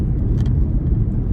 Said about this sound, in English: So I am driving a vehicle. This is my Jeep Patriot